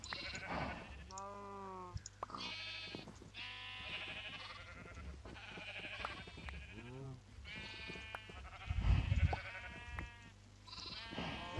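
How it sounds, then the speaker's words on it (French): Many sheep bleat in the video game Minecraft, their wavering calls overlapping almost continuously at moderate volume, with a brief low thump near the end. "Il y a des tonnes de moutons qui bêlent."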